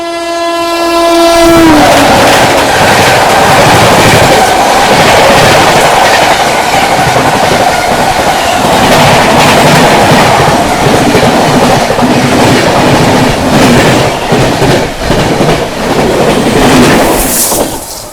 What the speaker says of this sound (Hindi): उस ओर से ट्रेन क्रॉस हो रही है वो दिखाते हैं। बहुत तेज़ आ रही है भाई।